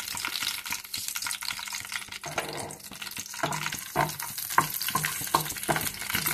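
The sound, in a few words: green chilies frying in oil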